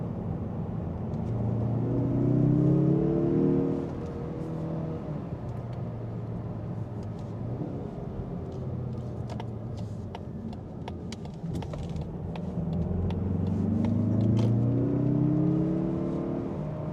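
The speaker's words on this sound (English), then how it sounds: "Let's throw ourselves in one other corner. We'll downshift. The downshifts are pretty quick" A 2025 Mazda3 Turbo engine heard from the cabin as it downshifts through a corner, revving up in rising sweeps, easing to a steady drone, then climbing again.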